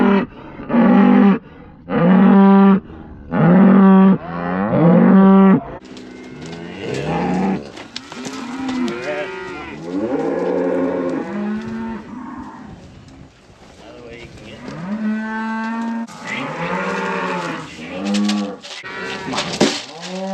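Cattle in a working corral moo loudly and repeatedly, with several long, deep bellows from close by and more animals overlapping behind them.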